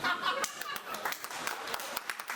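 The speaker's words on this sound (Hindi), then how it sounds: "सबसे ज्यादा ताली बजा रहा है" An audience at an indoor seminar claps briskly, with a quick irregular patter of hand claps running steadily throughout and some murmuring underneath.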